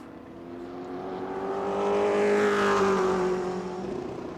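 Race car on a warm-up lap at New Smyrna Speedway, a single engine drone that swells as it passes nearby, peaks mid-way with a slight pitch shift, then fades away.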